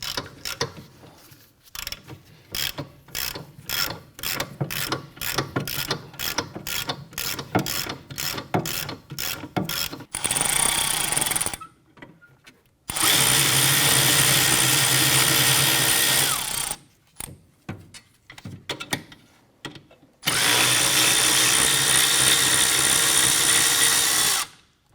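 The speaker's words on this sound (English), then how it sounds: "Just got to remove these 2 bolts." Power tool or impact gun running in bursts to remove brake caliper bracket bolts on a 2004-2008 Acura TL, with rapid ratcheting clicks followed by several loud sustained whirring runs separated by brief pauses.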